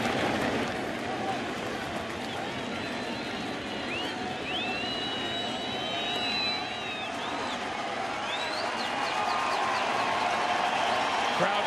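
A stadium crowd at the 2013 ALCS Game 3 between the Red Sox and Tigers keeps up a broad, sustained roar and cheer with scattered whistles. A commentator talks over it.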